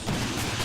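Gunfire from an Arma military simulation game, a short dense burst of loud shots with booming low end and no clear gaps between reports.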